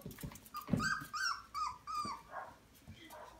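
Young puppies growl and whimper with high whiny yips in a close, busy cluster, while a person talks to them softly over the noise.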